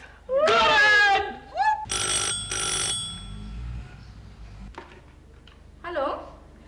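A telephone rings in two short bursts between bits of conversation, the ringing fairly loud and close while people talk before and after it.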